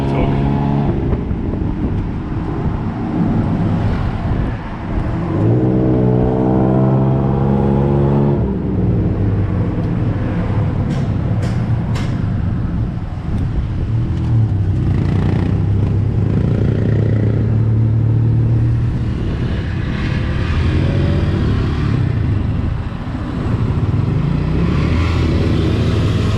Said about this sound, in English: now we have the terror / joy of riding along in a tuk-tuk.